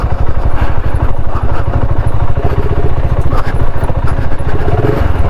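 A BSA Scrambler 650 motorcycle ridden off-road over rocks, its engine thumping in a fast, loud, close pulse with rattling clatter from the rough ground, running continuously with no voices.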